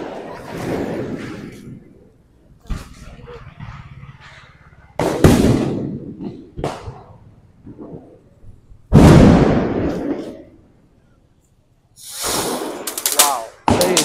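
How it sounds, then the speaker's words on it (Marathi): Diwali firecrackers and rockets burst nearby on Lakshmi Puja night: sharp cracking bangs and sputtering crackles come in irregular bursts separated by quiet gaps, with a loud close blast around the middle and a rapid crackling volley near the end. "कसेही रॉकेट म्हणजे आडवे वगैरे करून फटाके वाजवत आहेत."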